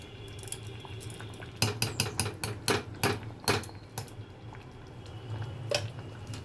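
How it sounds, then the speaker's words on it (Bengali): Ghee going into a pan of Bengali muri ghonto during cooking, with a burst of clattering metal spoon and pan knocks and light sizzling, loud close taps in a quick irregular run over a steady kitchen hum. "এবার দিচ্ছি ঘি।"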